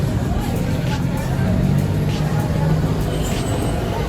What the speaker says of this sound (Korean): 교통이 엄청나요.